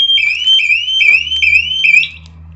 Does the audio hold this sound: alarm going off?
yes